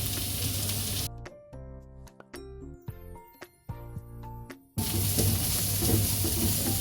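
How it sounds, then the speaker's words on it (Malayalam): Vegetables sautéing in a hot pan for dragon chicken, a loud hissing sizzle that drops out for a few seconds of tonal clinks and scraping, then surges back just as strong. "ഇവിടെ ഈ വെജിറ്റബിളൊക്കെ സോട്ട് ആവുന്ന സമയത്ത്"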